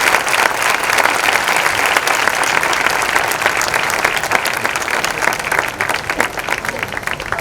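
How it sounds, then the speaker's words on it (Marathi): Audience at a youth group demonstration event applauds steadily, dense loud clapping from a crowd that holds for the whole stretch. "एकदा जोरात या सगळ्यांसाठी टाळ्या होत्या."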